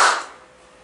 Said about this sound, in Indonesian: tepuk dua, tepuk empat, tepuk satu,